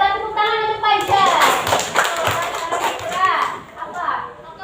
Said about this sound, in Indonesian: Tepuk tangan untuk Fajar.